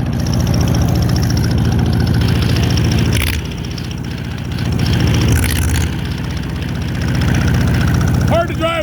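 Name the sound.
old Allis tractor engine chugging along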